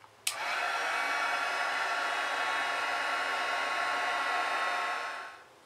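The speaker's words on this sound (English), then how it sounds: "I'm going to use my heat tool and I'm going to heat set my Amplify to make it embossed and give more texture." Heat tool switching on with a click and blowing steadily to set embossing paste on a stenciled canvas, a broad airy rush of hot air held for several seconds before cutting off, nearby and fairly quiet.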